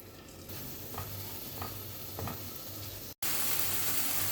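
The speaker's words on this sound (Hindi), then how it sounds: "इसमें हम चिकन को डालेंगे और चिकन को हमने फ्राई करना है इसका कलर वाइट होने तक" Chicken fries in a tablespoon of oil in a pan with a steady close sizzle and occasional stirring scrapes; the sound briefly cuts out, then returns as a louder, brighter hiss.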